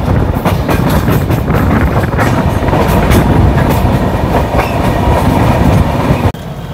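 Loud, continuous rumble and clatter of the Magadh Express as heard from inside a 3rd AC coach on the Delhi to Patna run, with rhythmic wheel clicks and no talking.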